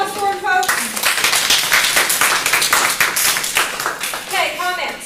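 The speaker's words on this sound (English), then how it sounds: "round of applause for him, folks." Applause in a classroom-style presentation session, a burst of close, loud clapping from the group, with brief voices or tones at the start and end.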